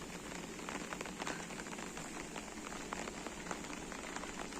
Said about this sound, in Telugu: ఇప్పుడిప్పుడే వర్షం అయితే కొద్దిగా అలా అయితే పడుతుంది